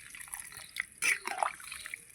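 Water goes into a cooking pot of potatoes and fish curry in a few small splashes and drips, close but faint, with short quiet gaps between them.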